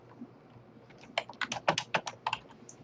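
Typing on a computer keyboard, a quick burst of close, crisp key clicks starting after a second of quiet and running in an uneven rhythm.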